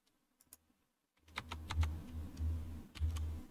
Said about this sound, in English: used the double quote key from the keyboard